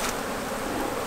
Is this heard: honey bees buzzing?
yes